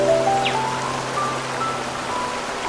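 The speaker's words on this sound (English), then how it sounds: "the soothing sound of flowing water" Water flowing at a waterfall, a steady broadband wash with faint tonal whistles drifting above it, moderately loud and constant with no talk.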